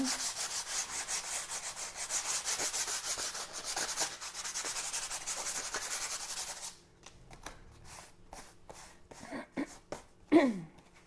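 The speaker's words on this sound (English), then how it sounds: "I'm just going to do a rough scuffing." A storage basket with stitching on its side gets a rough scuff by hand before stenciling: steady, close, dry rubbing for several seconds, then sparse softer strokes and small handling noises.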